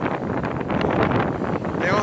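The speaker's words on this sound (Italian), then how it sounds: "Oggi c'è un po' di vento" Wind gusts buffet the microphone at Geremeas beach in Sardinia, a rough, roaring rush that swells and dips over two seconds, with waves breaking straight onto the shore faintly beneath.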